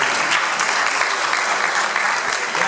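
A Spanish-speaking church congregation claps at a service, a dense, steady burst of applause filling the room at close range.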